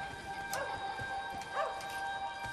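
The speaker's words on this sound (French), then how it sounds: "Un chien." A dog barks a couple of times in the distance within the video game Wolfenstein: The New Order, sharp yips set against a steady ambient hum with no talking.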